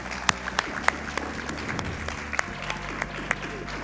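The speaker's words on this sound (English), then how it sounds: "Let's give a round of applause for that." An audience at the SGDQ 2018 speedrun marathon applauds during a Super Star Wars: The Empire Strikes Back run, steady clapping from a crowd with a few sharper individual claps standing out over a low background hum.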